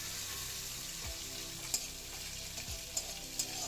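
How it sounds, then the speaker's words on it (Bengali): Nigella seeds and dried chilli sizzle in hot oil with a steady frying hiss, broken by a few sharp pops and crackles, close and continuous with no talking. "তেলের মধ্যে একটু কালো জিরে ফোড়ন দেবো, শুকনো লঙ্কা ফোড়ন দেবো"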